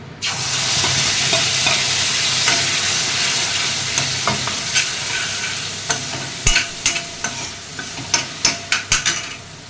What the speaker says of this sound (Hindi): मैंने इसमें वो प्यूरी डाली थी ना कढ़ाई में